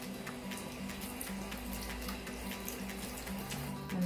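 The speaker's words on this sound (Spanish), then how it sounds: "lo vamos a lavar bien, le vamos a echar el agua." Running water poured from a tap to rinse a wound being washed with soap during first-aid cleaning, a steady close splashing flow that continues throughout without speech.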